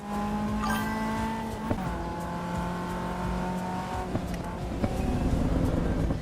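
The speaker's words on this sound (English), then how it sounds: "I think that the rumble sounds, the curb sounds are very loud." A Caterham racing car in the AC Evo game at the Red Bull Ring in Spielberg, a steady engine drone with shifting pitch and occasional sharp thumps and rumbles as the tyres ride over curbs.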